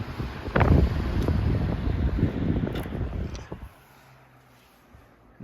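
An antique Emerson Electric 16-inch six-blade table fan, model 73668, spinning down: a loud airy whooshing rush that holds for a few seconds, then drops away sharply to a faint low hum.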